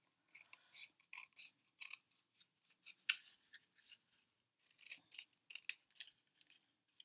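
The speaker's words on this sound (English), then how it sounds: "So nice sharp scissors will help." Repeated crisp snips of scissors cutting, irregular quick clicks close by, with short pauses between bursts.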